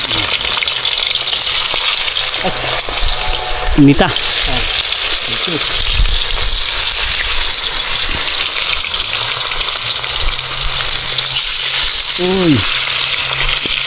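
Food crackles and sizzles in hot oil for crispy frying, a loud continuous hiss with scattered pops, while brief voices and a couple of clattering stirs come through on top.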